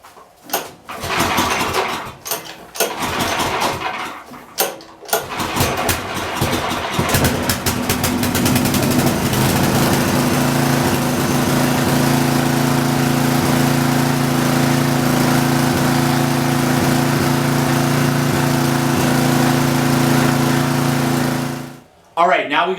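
A restored portable generator engine cranks with a few sputtering pulls, then catches and runs with a loud, steady mechanical drone close by for many seconds before it suddenly cuts off.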